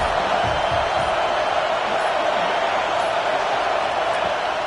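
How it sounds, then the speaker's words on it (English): A steady, loud roar from a football stadium crowd at an Auburn vs Clemson game, a continuous wash of massed voices holding even throughout without distinct peaks. "this crowd is coming to help the defense"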